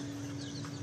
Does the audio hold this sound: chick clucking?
yes